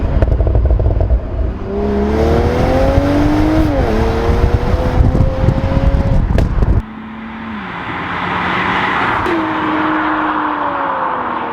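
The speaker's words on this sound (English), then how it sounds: "you can make the exhaust whip and crack like a McLaren basically" A 2019 BMW Z4 M40i exhaust roars loudly through rising revs, with sharp cracks as the throttle lifts, then the sound drops away and a quieter second pull follows.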